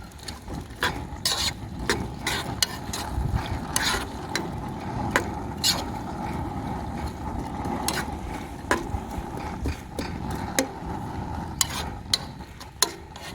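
Chopped onions fry in a pan until browning, with a soft continuous sizzle under repeated sharp scraping and clacking of a spatula stirring against the metal, close and fairly loud.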